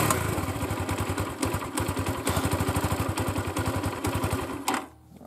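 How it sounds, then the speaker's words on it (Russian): A Viper R2 motorcycle engine idles and revs nearby, its exhaust throbbing in a steady rapid pulse before the engine shuts off. "Заведи его, послушаем. Выхлоп. Рычание."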